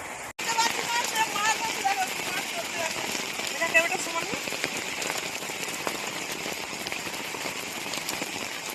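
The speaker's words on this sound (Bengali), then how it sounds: "আজকে বৃষ্টি কিন্তু প্রচুর হচ্ছে" Heavy rain pours down steadily in a village, a dense, even hiss of drops hitting surfaces, with a few faint bird chirps early on.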